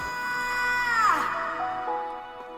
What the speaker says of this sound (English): I got the scream from there, and I faded it in.